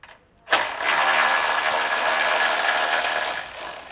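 A 10mm bolt is loosened on a 2023 Ford Escape, likely with a power tool, giving a sharp start followed by a steady, buzzing mechanical whir lasting a few seconds close by.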